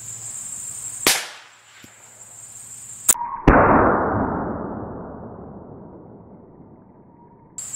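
A single loud .45 Colt lever-action rifle shot fired at a baseball from about 18 yards, cracking sharply and then ringing off in a long fading echo, preceded by a few brief mechanical clicks.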